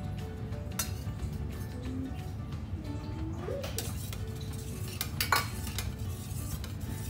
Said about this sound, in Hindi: अब मैं इसमें ऐड करने वाली हूँ विनेगर